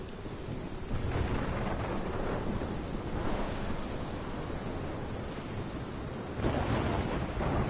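A thunderstorm in Life is Strange: heavy rain hisses continuously while deep rolls of thunder swell and fade, and a louder rumble builds near the end.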